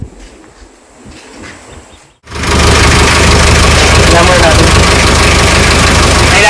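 A 2018 Mitsubishi L300 truck engine warming up at idle, heard after a quiet stretch as a sudden loud, steady, rough rumble with a constant drone that continues unbroken to the end.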